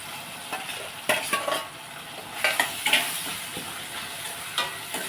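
Eggplant and chickpea curry with tomatoes and curry leaves stirred in a frying pan: intermittent spoon scrapes and clinks against the pan over a soft, steady sizzle, close and fairly quiet.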